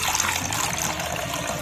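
Water pours steadily into a bowl, a continuous close splashing trickle with no talking.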